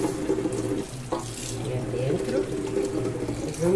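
Water running from a tap into a large pot holding preserve jars for canning chili peppers, a steady close rushing and splashing that continues throughout with faint talk in the background.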